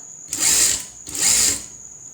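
A sewing machine running two quick bursts of high, whirring motor noise, close and fairly loud, with a brief pause between, while stitching the side slit of a chudidar.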